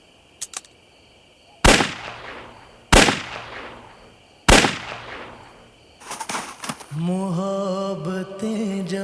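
Gunfire: three loud, sharp single shots spaced about a second apart, each with a short ringing decay, followed by faster rattling bursts overlapped by a rising tonal sound.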